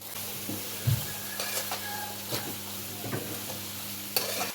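Rice frying with salt, black pepper and crushed red chilli in a pan, a soft sizzle punctuated by several distinct spoon-scraping stirring knocks, close and without voices.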